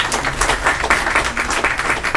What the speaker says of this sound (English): Let's give Mr. Book a round of applause.